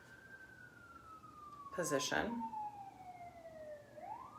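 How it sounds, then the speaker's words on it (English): A siren wails steadily in the distance behind an evening outdoor meditation, its slowly falling tone running throughout, with a brief burst of nearby noise and a few spoken words partway through. "you can probably hear this siren right now"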